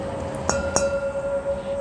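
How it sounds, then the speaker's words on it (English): A large Spiegelau IPA beer glass gives two sharp, close clinks about a quarter second apart, then a clear, sustained ring that hangs on quietly, with no talking. "because it's in an enormous can, I broke out my enormous IPA glass."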